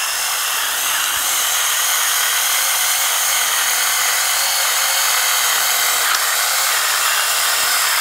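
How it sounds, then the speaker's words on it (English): A Flafster kitchen grinder set to its coarse setting grinds pepper, giving a steady, loud, gritty grinding rasp that runs continuously and alone throughout. "And you see it has a much coarser grind."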